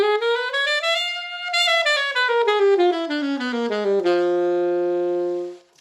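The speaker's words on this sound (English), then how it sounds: "This is called the diminished scale." A jazz diminished scale starting on concert F plays as a run of distinct melodic notes, rising and then falling in alternating whole and half steps on a single clear-toned instrument, close and alone, ending on a held note that fades.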